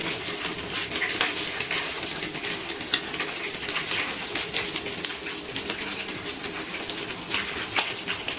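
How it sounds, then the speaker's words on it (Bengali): Chicken leg pieces for Korean fried chicken sizzle steadily in hot oil, a dense close crackle with sharp pops scattered throughout and no voices. "বাকি চিকেন লেগ পিসগুলো একইভাবে ভেজে নিচ্ছি।"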